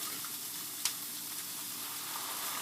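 Cooking wine hisses into a pan of onions frying in olive oil, a steady close sizzle with one sharp crackling pop early on.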